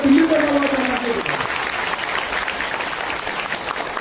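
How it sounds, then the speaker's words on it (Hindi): Loud, sustained clapping from a crowd of mothers and sisters at an event where an agriculture minister hands tractors to women's self-help groups, with a brief voice heard at the start. "आप सब माता बहनों को निवेदन करता हूँ कि जोरदार ताली बजाकर दिल्ली तक आवाज आना चाहिए"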